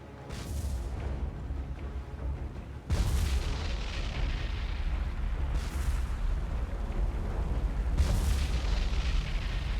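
Repeated deep booms of shipboard magazine explosions in the naval video game War on the Sea, four heavy blasts with rumbling decay rolling into one another, loud and without talk.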